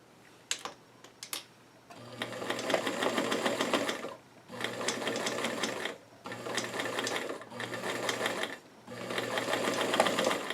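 Sewing machine stitching a row on small doll jeans, a quiet close rapid mechanical whir in four steady runs separated by short pauses, preceded by a few light clicks.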